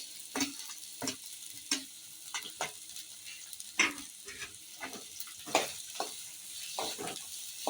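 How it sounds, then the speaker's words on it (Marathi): Chopped onion frying in hot oil for a Malvani-style mackerel curry, a soft close sizzle with irregular spatula scrapes and taps against the pan, fairly quiet, no talking. "तेल गरम होत आलंय आता कांदा टाकायला घेते हे आता कांदा परतून घेते"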